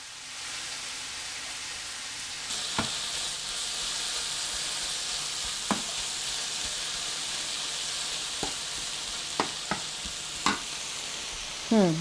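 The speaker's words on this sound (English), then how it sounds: "Let it fry for a little while." Zucchini fritters (tortitas de calabacita) frying in a pan make a steady, even sizzle and hiss, with occasional sharp pops and light utensil clicks, close and unbroken by speech.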